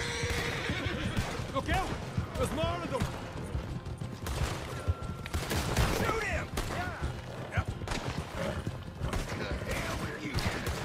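Horses whinny repeatedly in the video game Red Dead Redemption 2, with galloping hoofbeats, scattered gunfire and people talking over the commotion.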